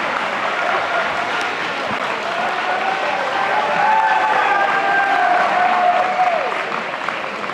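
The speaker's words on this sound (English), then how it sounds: "If all of you could please stand up for a round of applause for them." A standing audience at a school athletics awards ceremony gives a sustained round of applause, dense clapping with a few cheers and whistles rising in the middle before tapering off.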